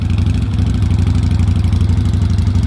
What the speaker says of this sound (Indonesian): Pada saat idle 1500 RPM, itu tone suara V-twin-nya benar-benar terasa teman-teman sekalian